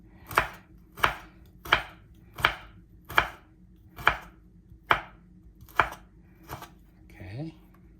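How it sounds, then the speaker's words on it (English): A knife chops turmeric into small pieces on a board: nine sharp, evenly spaced thuds about every 0.7 seconds, crisp and close, followed by a brief soft voice at the end. "And this is turmeric, so cut in a small piece."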